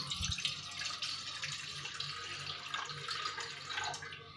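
A full glass of water pours into a pan while Maggi noodles are being made, a steady splashing rush that lasts the whole moment and trails off near the end.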